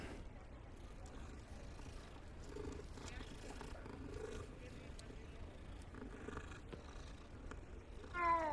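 A cat purrs in Hogwarts Legacy, a low, faint, steady rumble running through the whole stretch with quiet game ambience around it and a brief louder sound at the very end.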